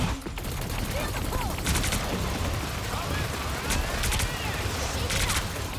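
Dense, loud heavy-weapons fire from the Punisher's enabled turret in the Marvel Rivals video game, a sustained rattling barrage with bursts of sharper shots, close and continuous throughout, with voices talking faintly underneath.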